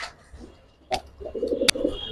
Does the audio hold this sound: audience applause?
no